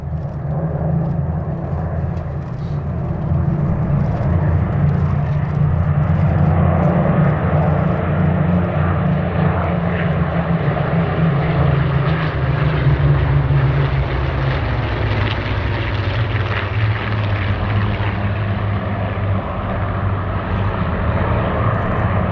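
A formation of nine Supermarine Spitfires passes over Sywell Airshow, a loud steady piston-engine drone that builds and sweeps past overhead without pause.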